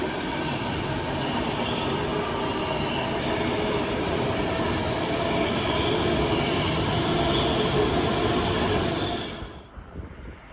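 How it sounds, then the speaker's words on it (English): Avanti West Coast train, a London Euston to Holyhead service with units 221105 and 221106, roars past close by in a loud continuous rush of wheels and carriages with metallic squeal, then drops away abruptly near the end. "Right, passing through now for Avanti West Coast."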